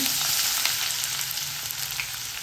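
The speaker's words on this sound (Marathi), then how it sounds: "कांदा छान परतून घ्यायचा आहे तेलामध्ये" White Alibag onion sizzles in hot oil with cumin and a pinch of asafoetida, giving a brief, dense, even hiss close to the pan, with no voices.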